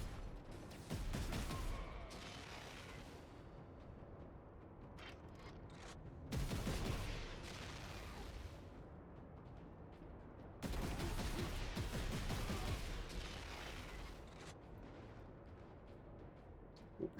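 Sustained bursts of automatic gunfire and explosions from the video game Warhammer 40,000: Space Marine, loud dense barrages in two or three long waves separated by quieter stretches, with no voices.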